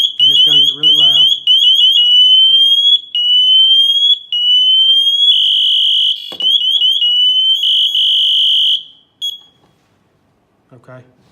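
A PASS alarm on an MSA Firehawk M7 firefighter air pack gives a loud, piercing electronic tone that steps through rising and repeating patterns for about nine seconds. It cuts off abruptly, and a few brief noises and a faint voice follow.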